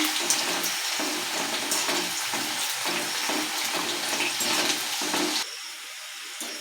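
Food frying in a pan, a steady crackling sizzle that runs unbroken and close, then drops to a quieter, thinner hiss near the end.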